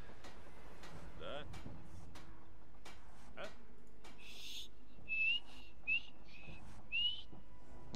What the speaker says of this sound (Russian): Я могу свистеть получше, если ты мне дашь пару советов.